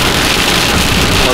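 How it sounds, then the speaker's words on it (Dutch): Heavy rain pours down hard and close outdoors at a garden landscaping site, a dense, loud, steady hiss with no gaps and nothing else standing out. "Wat een regen."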